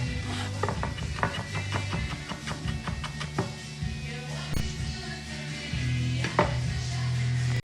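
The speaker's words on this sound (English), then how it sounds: "So just really finely chop up those chilies." Chilies are chopped finely with a knife on a board, producing rapid, irregular close taps in clusters, with a steady hum behind and occasional kitchen clatter.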